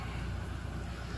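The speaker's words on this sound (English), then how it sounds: "I apologize for the wind noise here." Steady low rumbling wind noise buffeting the microphone outdoors in Oklahoma beside a 2013 Ford F450 truck, throughout, with no voices.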